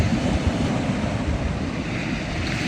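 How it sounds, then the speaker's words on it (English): Water washes and churns over rocks on the Cornish shore, a steady close rushing hiss with gentle surges, continuous and without voices. "The sound of the water on the rocks is my new favourite ASMR."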